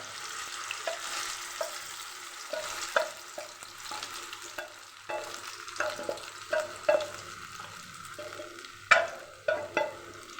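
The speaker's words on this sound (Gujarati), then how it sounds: "આપણે જે દૂધમાં પલાળીને રવો રાખેલો એ હવે આપણે અહીંયા શેકશું સાવ ધીમા ગેસ ઉપર" Milk-soaked semolina roasts on low gas while a spoon stirs it steadily, giving a soft sizzle under repeated scraping strokes and occasional clinks against the pot, close and unaccompanied by voices.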